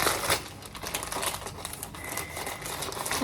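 Plastic parcel packaging from an AliExpress order crinkles and rustles close up as it is unpacked, a continuous crackling texture with sharper crunches at the start.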